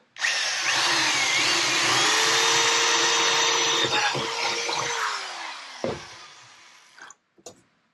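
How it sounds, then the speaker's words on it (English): A power drill whines steadily for several seconds while drilling holes in a Com-Pac 23 sailboat for genoa tracks, then slows and stops, followed by a couple of brief clunks. "I'm going to drill one of these holes where the old one was"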